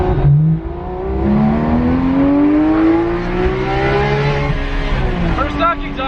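A Porsche 991.2 GT3 RS with its stock titanium exhaust gives a loud, high-pitched screaming engine note, revving steadily higher before easing off near the end, with someone talking over it.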